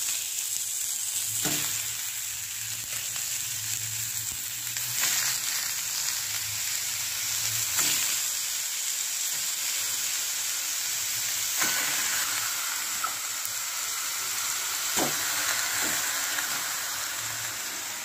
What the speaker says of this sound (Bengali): আমি এই পেঁয়াজ ভাজা যে তেল আছে এই তেলেই মাছটা জাস্ট এপিট ওপিট করবো